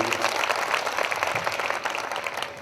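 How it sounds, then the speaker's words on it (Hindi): A church congregation applauding steadily, a dense wash of many clapping hands that carries on throughout at moderate volume. "जोरदार ताली बजाइए परमेश्वर के लिए"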